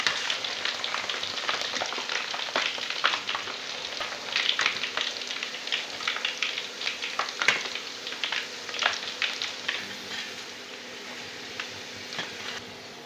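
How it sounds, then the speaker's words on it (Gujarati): Potato chips fry in hot oil with a continuous close sizzle dotted by sharp irregular crackles and pops, moderately loud and without voices. "ને એટલે તળવા નાખી દીધી છે આપણે"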